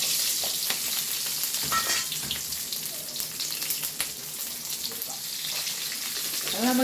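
Onions and garlic fry in a pan for a chutney, producing a continuous close sizzle with stirring scrapes and a few light clinks throughout.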